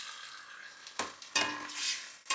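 Hot pan deglazed with white wine for a Genovese sauce, giving a steady hiss of sizzling with two sharp bursts as liquid hits the metal and a ladle stirs, close and fairly loud.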